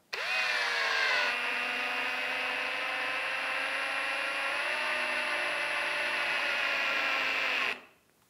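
A power drill drives a screw into a wall plug, a loud, steady whirring drone that runs for several seconds and then winds down abruptly.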